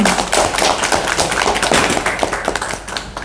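Loud, dense applause fills a press-conference hall as an audience claps for the president of an international business trade association at a mini-marathon announcement event, steady and close throughout with no talk.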